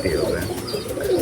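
Pigeons coo nearby, soft low repeated coos across a short moment with faint chirps above.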